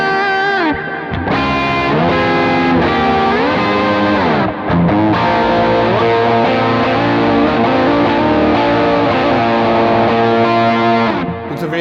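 A worship guitarist's electric guitar plays chords through a heavily distorted effects patch, a dirty, saturated tone that rings steadily and loud with a few short breaks.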